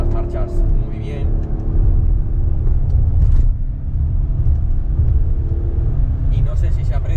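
A Ford Explorer Hybrid accelerates through its gears in manual mode, with a steady low engine and road rumble inside the cabin beneath someone talking close by.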